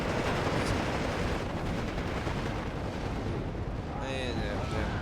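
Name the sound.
mortar fire explosions in Steel Division 2 video game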